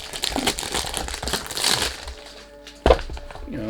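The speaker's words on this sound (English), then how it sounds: "sorry about the noise. When you do unboxing, you can't do anything about it." Perfume box being opened during an unboxing, close crinkling and rustling of cardboard and packaging followed by a sharp crack, then quieter handling noise.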